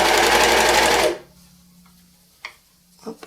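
A serger stitches a jersey knit neckline in a loud, fast mechanical whir for about a second, then stops, followed by a few faint clicks and handling sounds.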